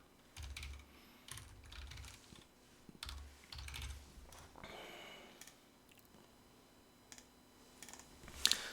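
A command is typed on a computer keyboard during a Linux basics class, with bursts of quick, close clicking keystrokes and short pauses between them, ending in a sharper final key press.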